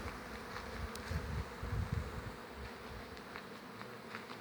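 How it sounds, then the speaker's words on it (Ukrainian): Honey bees hum around an apiary near a house surrounded by flowering plants, a dense, continuous buzz with individual insects swelling louder as they pass close, steady throughout and with no speech. "От в мене пасіка тихо сидить, тут бджоли спокою не мають."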